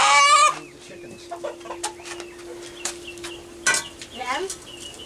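Chickens clucking and squawking in a backyard coop, a loud burst up front then scattered close clucks and calls over a steady hum, with a person talking at times.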